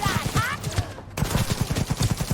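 A rapid burst of assault rifle fire in the Cyberpunk 2077 video game, with steady, evenly spaced shots and a brief pause before the firing resumes, loud and close.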